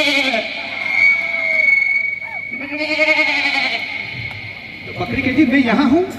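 A person imitates a young goat's bleating, giving several wavering, nasal bleats in a row, loud and close.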